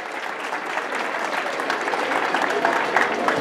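Sustained audience applause from a school crowd, a dense, steady wash of many hands clapping at moderate loudness throughout, with no clear speech over it.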